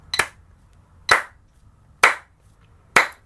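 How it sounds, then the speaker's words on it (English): Four crisp hand claps spaced evenly about a second apart, landing only on the first eighth note of each beat in a rhythm drill, close up with no other sound. "Then you just clap only the first one."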